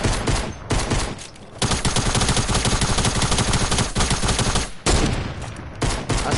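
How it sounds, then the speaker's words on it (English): A video game pistol fires, then a heavy gun opens up, making dense, loud, continuous bursts of rapid gunfire with only short gaps. "Listen to the sound of my pistol. And listen to my heavy."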